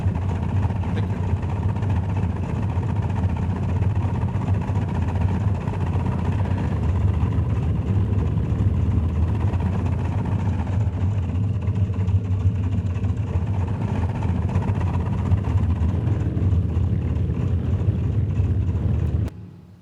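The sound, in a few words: Boeing 314 flight simulator engine sounds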